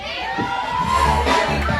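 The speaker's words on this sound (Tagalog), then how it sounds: "isang malakas na palakpakan na may kasama, hiyawan naman dyan!" A loud crowd at a child's first birthday party cheers and shouts together, with children's voices prominent in a steady, energetic roar of noise.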